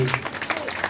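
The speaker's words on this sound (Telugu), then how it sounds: "చప్పట్లు పెడదామండి. విజయ్కి" Applause from a Good Friday church gathering, with quick scattered hand claps after a brief voice at the start, lasting only a moment.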